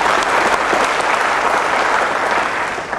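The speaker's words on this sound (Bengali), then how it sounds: "তাদের উদ্দেশ্যে একবার জোরসে হাততালি দেবেন" An audience at a business seminar breaks into loud, dense, sustained applause that stays full and even throughout, many hands clapping together up close.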